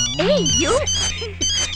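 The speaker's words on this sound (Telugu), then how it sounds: "రాంగ్ టైంలో రింగ్ అవుతుంది." A phone ringtone plays nearby, a bright warbling melody with rising and falling tones, loud and close, over a faint low hum.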